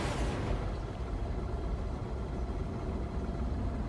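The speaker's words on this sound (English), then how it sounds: "we'll need to engage the pulse engine" A spaceship's pulse engine engages in the space game No Man's Sky, a loud, steady low rumbling roar that starts with a brief bright rush and then holds a dense, constant drone throughout.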